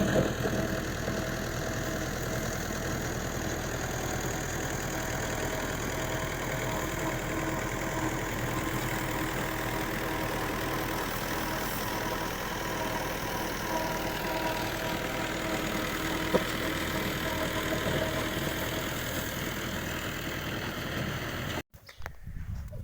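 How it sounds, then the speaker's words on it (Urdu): A tractor engine runs nearby with a continuous, rough, knocking drone that holds steady for about twenty seconds in a rural Pakistani village. A brief clatter comes at the end, and no one speaks. "یہ سامنے ٹریکٹر جا رہا ہے, ابھی ڈرائیور چلا رہا ہے اس کو"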